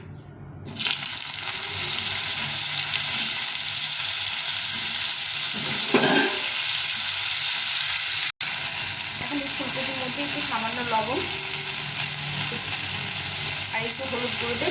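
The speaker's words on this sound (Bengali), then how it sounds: "এই ফুলকপিটা একটু ভেজে নেব" Steamed cauliflower fries in oil in a pan with a loud, continuous sizzle and hiss that stays close throughout. Stirring clatters now and then, and a voice speaks briefly underneath.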